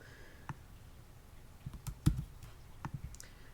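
Scattered keystrokes on a computer keyboard, a few soft, irregular clicks close by in a quiet room with one sharper tap in the middle.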